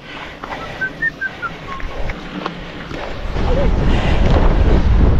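Wind gusts buffet the microphone on the road during the Tour de France, starting lighter with some whistling tones, then building into a loud, steady roar of wind noise.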